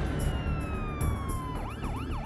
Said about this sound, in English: Sirens pierced the night as neighbors, cops, and paramedics raced to a crime scene